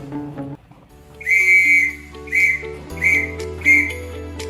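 Morse code letter B, whistled as one long, steady tone followed by three short, evenly spaced blips. The whistling is close and prominent over soft sustained background music, with no voices.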